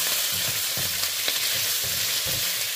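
Chicken breast for pancit bihon frying in a hot pan, a steady loud sizzle with soft stirring scrapes and clatters at intervals, no voices.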